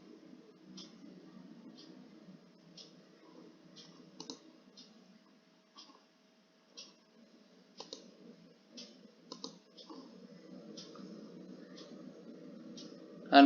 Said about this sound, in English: Click on transactions, click on sales return button.